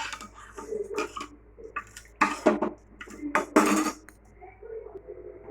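A spoon stirs cheese and sugar into warm water in a bowl, with irregular scraping and clinking strokes up close, some louder bursts midway, over a low steady background hum.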